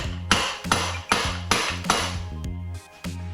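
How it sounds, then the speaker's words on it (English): Several sharp metallic hammer taps ring out close by in an uneven rhythm on the casing of a Kawasaki STX-15F jet ski engine, each strike followed by a brief ringing decay. "I'm going to try tapping it and seeing if it comes apart"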